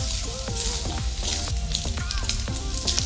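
Rice mixture with reserved pork, mixed over low heat, sizzles steadily in a pan while being stirred, with repeated scraping clinks of the utensil against the pan.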